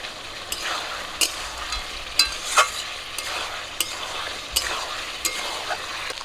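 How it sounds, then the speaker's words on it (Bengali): Steady sizzling of chicken pieces frying in a pan, with occasional sharper crackles and clanks of a utensil stirring, no voices. "মাংসগুলো ভাজা করে নিয়েছি"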